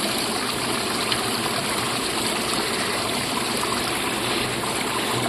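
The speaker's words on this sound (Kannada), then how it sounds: "ನೋಡಿ, ನೀರು ಒಳಗಡೆಯಿಂದ ಹೇಗೆ ಸ್ವರ ಕೇಳುತ್ತೆ." Water flows steadily and loudly out of a household tunnel spring during the rainy season, making a continuous rushing gurgle with no break.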